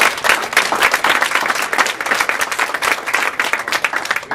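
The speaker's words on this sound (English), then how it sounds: "we can give him just another round of applause" An audience gives a speaker another round of applause, a dense, close burst of many hands clapping at an even level throughout.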